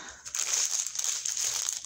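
Paper crinkles and crumples steadily up close while a box of diamond painting supplies, rhinestones and beads, is unpacked, with a dense rustle lasting almost two seconds.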